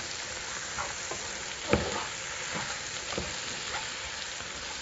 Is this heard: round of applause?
no